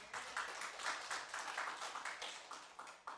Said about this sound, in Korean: 하나님께 영광의 박수를 돌립니다